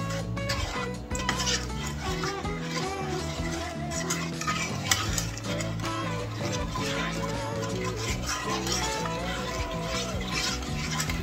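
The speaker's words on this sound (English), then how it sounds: "Put in some Dijon mustard, about a tablespoon. That's good. And give it a stir." A spoon stirs Dijon mustard into a simmering bacon bourbon sauce in a pan, giving a steady clatter and scrape against the pot over a soft sizzle, with light music playing throughout.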